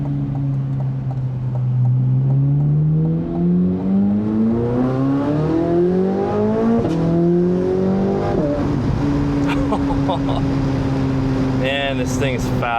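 A Chevrolet C8 Corvette Z06 engine revs hard under acceleration, its loud, steady tone climbing through the rev range, then dropping sharply at a gear change and climbing again, up close and dominating the clip.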